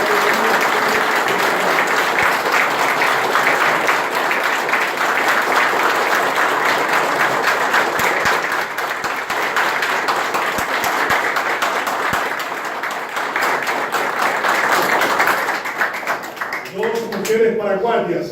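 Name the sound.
audience applauding activists at award ceremony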